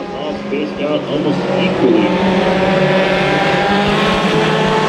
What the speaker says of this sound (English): A very clean start to the mini stocks is mini stock night